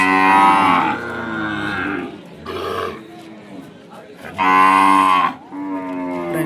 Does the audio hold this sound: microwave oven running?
no